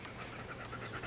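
A dog pants quickly and rhythmically, brief soft breaths close by with no talk.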